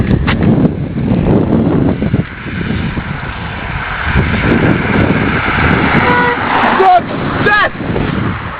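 A car approaches and passes close by with a rising engine rumble and road noise, sounding a few short horn toots near the end, while wind buffets the microphone and a voice speaks briefly.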